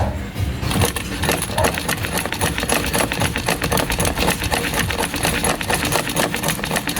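A Royal brand household sewing machine runs steadily and loudly throughout, its rapid mechanical clatter continuous with no talking.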